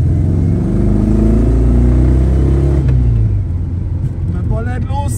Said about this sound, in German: Der bollert los, der Karmann